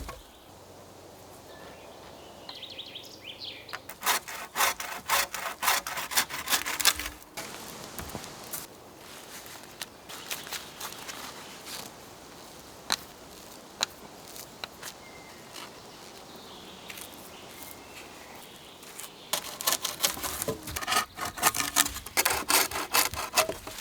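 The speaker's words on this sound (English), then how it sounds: "This is where the handsaw will do a much better job than an axe." A handsaw cuts wood outdoors at a bushcraft camp. Close, rhythmic rasping strokes come in fast bursts, with a pause in the middle before the steady back-and-forth sawing starts again.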